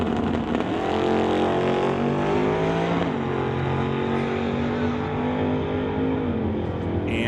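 A drag racing car, a White Knuckle Racing Model A, holds a loud, steady engine roar at a strip, with the pitch shifting slightly as it idles and revs, sustained throughout with no voices.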